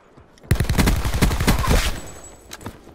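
Rapid bursts of Peacekeeper gunfire in a video game shooter, loud and close, a fast rhythmic string of shots lasting about a second and a half, then trailing off with a few scattered reports.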